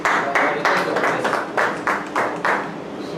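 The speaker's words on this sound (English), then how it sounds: "Again, let's give him applause." Audience applause at a community project presentation in Nashik, India: clapping comes in loud, uneven bursts of hand claps with a roomy sound, while a voice talks over it.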